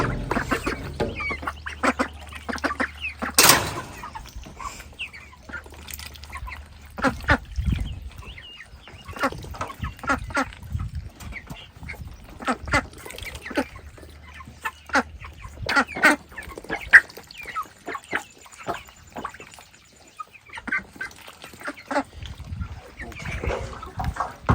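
Ducks quack repeatedly among a brood of young chicks, clustered bursts of calls near and far with clucking mixed in, with brief quiet gaps and occasional handling noise.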